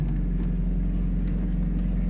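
A 1982 Pontiac Firebird left abandoned for 25 years, its engine idling high as the car creeps forward: a steady, low, droning rumble, close and constant throughout, with no talk.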